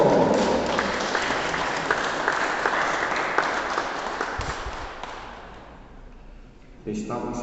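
Guests at a 50th birthday celebration in Peru applaud steadily and loudly, the clapping gradually fading away before a voice and room noise return at the end.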